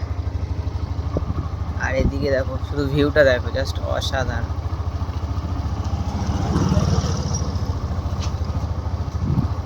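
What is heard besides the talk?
motorbike riding through village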